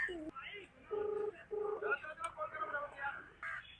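A telephone keypad gives a few short dialing beeps, close and clear, mixed with and partly masked by people talking.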